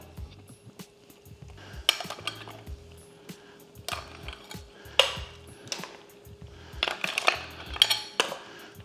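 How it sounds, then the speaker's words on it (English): Mussels and prawns tipped into a pan of curry, giving metallic clinks and clattering shell knocks against the pan in irregular bursts, close and moderately loud, with quieter scraping between. "Okay, I'm going to add my seafood now."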